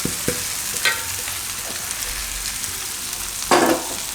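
Soaked flattened rice (poha) is stirred into a frying pan for Gujarati kakdi pawa, with a steady sizzle throughout and a few scraping stirs, one louder toward the end.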